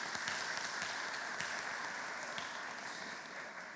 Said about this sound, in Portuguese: Vamos aplaudir nossos irmãos.